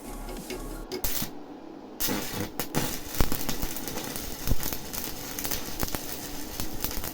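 A Riga MMA 250 welding inverter set to 200 amps strikes a stick-welding arc, giving a harsh, crackling sizzle with irregular pops that runs for several seconds, loud and close.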